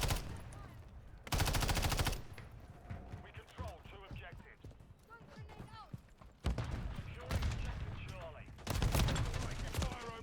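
Bursts of gunfire in the video game Lethal Company, loud stretches of rapid shooting arriving in several separate volleys, with people talking over and between the shots.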